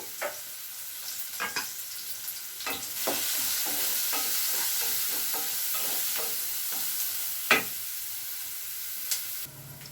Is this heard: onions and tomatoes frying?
yes